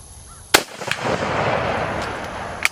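Two sharp, loud rifle shots from a full-power lightweight carbine ring out about two seconds apart at an outdoor range shooting toward 300 yards. Each crack is followed by a rolling outdoor echo.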